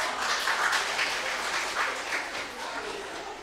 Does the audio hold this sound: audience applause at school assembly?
yes